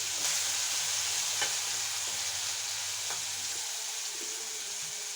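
Cauliflower pieces fry in hot oil, a steady, loud, dense sizzle with occasional pops that continues evenly throughout with no talking.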